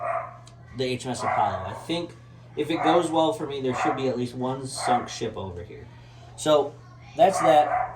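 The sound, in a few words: dog barking in the room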